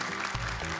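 An audience claps together for a team on a televised Islamic recitation talent show, a short, dense burst of applause.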